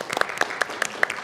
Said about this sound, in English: So round of applause for yourselves, and a round of applause too for the council members here tonight.